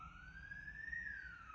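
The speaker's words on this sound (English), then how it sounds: "Sorry for the ambulance." An ambulance siren sweeps past on a Barcelona city street, its rising and falling wail steady and fairly loud over low traffic rumble.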